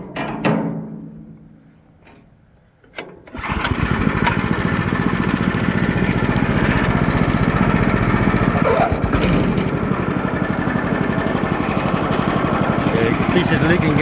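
A gasoline engine with a faulty carburetor drives a fan. It sputters and fades at first, then roars steadily at high revs, loud and close.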